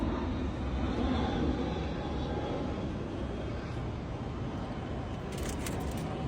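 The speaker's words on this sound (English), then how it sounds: "There's a plane." An airplane passes overhead as a steady, broad roar that holds evenly throughout, moderately loud and distant, with no voices.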